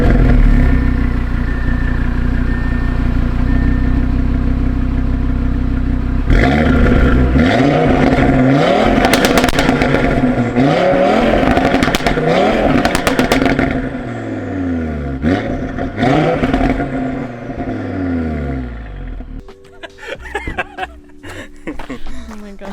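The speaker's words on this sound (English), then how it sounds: "But let me give you guys a little rev." Audi RS3 engine with a Unitronic mid pipe and secondary cat delete revs repeatedly, loud and close, rising and falling in sharp sweeps with crackling at the end, over a steady idle.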